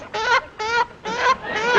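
A man imitates a chicken clucking in four quick, harmonic bursts with short gaps between them, close and fairly loud, with no other sound around.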